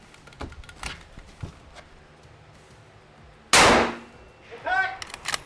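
Rifle bullet strikes a steel target at a competition shooting stage, ringing as one loud metallic clang followed by a brief fading ring, with faint distant noises before it.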